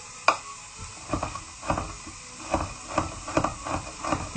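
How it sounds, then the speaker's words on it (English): Garlic being chopped on a board in a home kitchen, a series of irregular knife taps and thuds spaced through the stretch, close and moderately loud, with faint clatter and no talking. "I'm just chopping up my garlic"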